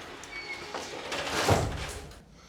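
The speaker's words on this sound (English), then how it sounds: "shut this door." A door swings shut inside a restored backyard fallout shelter, a single close thud with a brief rumble after a few faint creaks and shuffles, in an enclosed, slightly echoing space.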